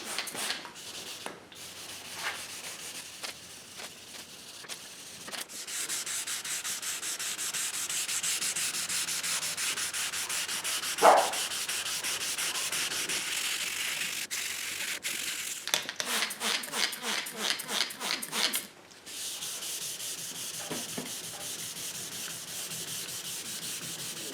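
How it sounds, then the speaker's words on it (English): Steady back-and-forth wet sanding of car paint with 1200-grit sandpaper on a hard block, a soft rasping scrub with brief pauses, close up and without talk. "literally like a minute and a half worth of sanding"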